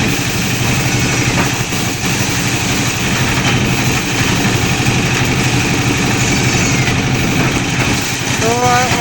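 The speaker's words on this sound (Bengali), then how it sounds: "আর এখন মেশিন দিয়ে ধান মারাই করতে হয়" Engine of a paddy threshing machine running steadily and loud throughout, a constant low mechanical drone with vibration close by, no pauses.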